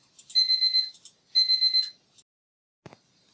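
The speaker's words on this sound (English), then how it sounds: "I forgot to turn my timer off for my medicine. So then my timer went off." A medicine timer alarm going off in two loud bursts of rapid, high electronic beeps, followed by silence and a single soft click.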